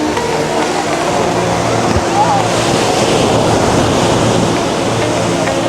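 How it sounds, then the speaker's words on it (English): Big surf rolls onto a popular beach in Los Cristianos, Tenerife, a loud, continuous roar of breaking waves mixed with wind buffeting the microphone. "Some big waves coming in today."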